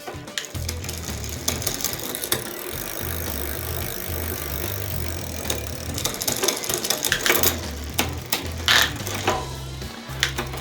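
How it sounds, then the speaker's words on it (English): The rear derailleur of a Jamis Citizen step-over bicycle shifts across the gears while the pedals turn, giving a continuous close ratcheting freewheel clicking with chain rattle and repeated shift clunks. "We're going to put a little bit more tension by turning counterclockwise to make the derailleur move over more"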